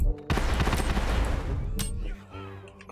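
Dense, rapid gunfire from a Totally Accurate Battle Simulator battle roars loud and continuous for a couple of seconds, one sharp crack standing out near the end before the barrage fades to quieter game sounds.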